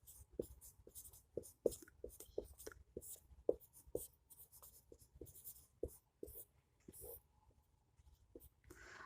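Pen writing a definition by hand on paper, a quick irregular series of soft close scratches and taps, quiet, with faint whispery sounds between strokes.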